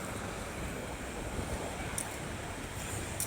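Sea waves washing along the waterfront at West Kowloon, Hong Kong, a steady, continuous broadband rush with light wind noise and no clear individual breakers, heard alone without talk.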